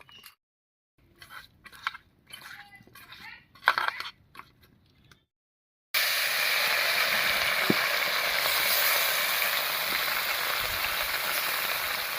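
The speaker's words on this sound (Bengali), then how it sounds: "মাছগুলো ভাজা হতে থাক" Small river fish coated in turmeric and salt fry in hot mustard oil in a wok, giving a steady, fairly loud sizzle with occasional pops that starts abruptly after a stretch of faint kitchen clatter.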